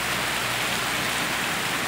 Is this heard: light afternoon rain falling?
yes